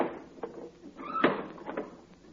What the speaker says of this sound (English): Oh, the man next door again. Flies must be bad over there. Closing all his windows.